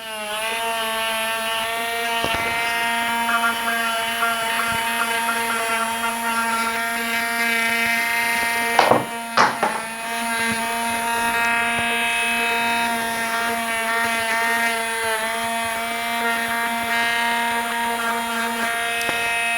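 Electric nail file fitted with a very fine bit, run over cuticles and skin during a UV/LED gel nail extension: a steady high-pitched motor whine held close and loud throughout, with a brief dip and scrape midway.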